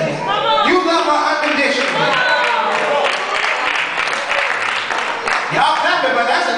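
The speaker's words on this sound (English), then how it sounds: "Y'all clapping" A church congregation claps in a sustained wave of loud, dense applause with crowd noise, filling the room from start to finish.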